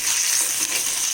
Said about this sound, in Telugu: కొద్దిగా ఆవాలు, కొద్దిగా జీలకర్ర ఇవి వేసుకోవాలండి. కొంచెం వేగాలి.